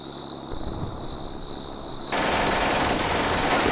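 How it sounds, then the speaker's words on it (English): Gunfire from the World War II tactics game Combat Mission: Beyond Overlord: a faint steady hiss with a thin tone, then a sudden jump to a dense, loud wash of distant rifle and machine-gun fire. "They're shooting."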